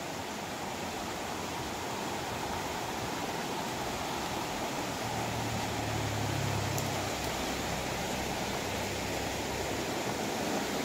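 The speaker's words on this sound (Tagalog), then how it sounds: "Ayan, nakikita na po natin ang batis." A campsite stream (batis) in Real Quezon flows with an unbroken broadband rush, fairly close and steady, with a faint low rumble briefly rising in the middle and no talking.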